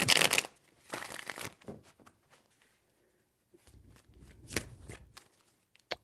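Tarot cards are shuffled by hand in quick riffling bursts, with papery rustles, soft slaps and short pauses between shuffles, close and fairly quiet.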